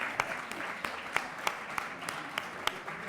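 Applause in a constituent assembly session for fellow deputies, moderate, even clapping from a crowded hall, with a few louder individual claps sticking out at regular intervals.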